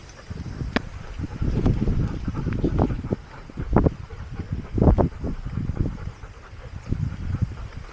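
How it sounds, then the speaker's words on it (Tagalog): Gusty wind buffets the microphone in uneven bursts, with rustling and scattered thumps outdoors. "Mahangin, diba?"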